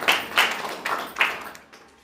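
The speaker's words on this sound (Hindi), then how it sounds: "बहन के लिए ताली बजाओ" At a Hindi church sermon, a few people clap together in loose rhythm, about four distinct bursts of claps that fade toward the end, fairly close and with no talking.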